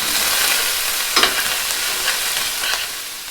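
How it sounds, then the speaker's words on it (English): Ground meat with chicken livers browns in a pan for dirty rice, sizzling steadily. A few distinct scraping stirs cut through the constant frying hiss. "we just give that a few stirs until it's completely browned"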